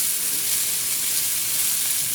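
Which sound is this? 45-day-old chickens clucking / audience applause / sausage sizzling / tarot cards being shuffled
sausage sizzling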